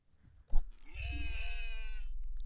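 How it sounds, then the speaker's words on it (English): A goat in the video game Fear and Hunger 2: Termina lets out a single long, wavering bleat over a low rumbling drone, following a brief thump. "He is actually the goat. He's actually a goat."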